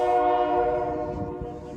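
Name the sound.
Toys for Tots train passing with horn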